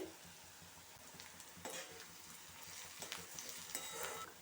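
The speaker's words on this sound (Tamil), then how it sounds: "ரெண்டு பெரிய வெங்காயம் சேர்த்துடலாம் ஒரு நிமிஷம் போல் நல்லா வதக்கி விட்டுறலாம்" Sliced onions and slit green chilli with curry leaves sautéing in a pan, a steady close sizzle with scraping stir strokes repeating throughout, heard alone.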